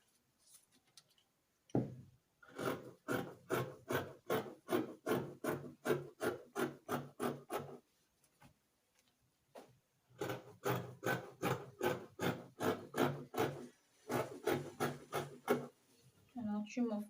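Scissors cut through fabric for an A-line dress with falling sleeves, giving steady rhythmic snipping and rasping strokes in two long runs separated by a short pause.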